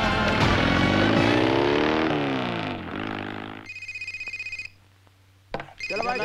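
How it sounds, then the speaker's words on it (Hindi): A telephone rings with repeated electronic trill bursts after loud music fades out, then the ringing pauses and starts again as a voice speaks briefly. "ये देख ये देख फोन बज रहा बज रहा"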